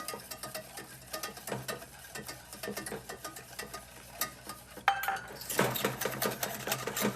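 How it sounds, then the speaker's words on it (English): A whisk beats sugar into egg yolks in a bowl, rapid irregular metallic clicking and scraping close up, growing brisker and louder toward the end. "now I'm going to beat in 3/4 cup of sugar"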